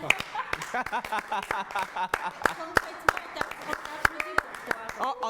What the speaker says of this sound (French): On applaudit juste pour quand même accueillir les téléspectateurs